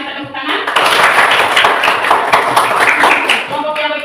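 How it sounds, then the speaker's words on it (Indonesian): A class of students claps together after a group presentation in a school classroom, a dense patter of hand claps lasting several seconds with a few voices mixed in near the start and end. "mari kita tepuk tangan"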